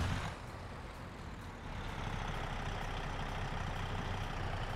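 Heavy truck engine in American Truck Simulator, a loud, steady low rumble that dips briefly then swells again and holds, with no talking.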